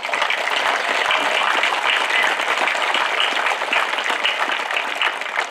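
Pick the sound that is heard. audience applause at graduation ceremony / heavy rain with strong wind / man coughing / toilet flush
audience applause at graduation ceremony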